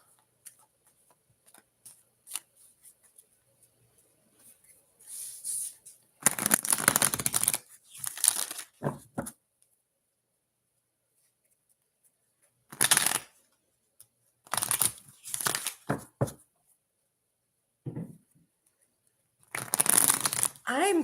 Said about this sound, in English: I'm just shuffling these cards until I'm told to stop shuffling these cards for you.